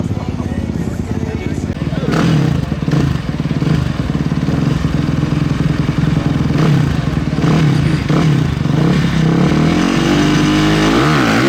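A dirt bike roars up a steep hill climb at the Brick Mine open knobby event, engine loud and continuous with revving surges and bouncing throttle, while a commentator talks over it.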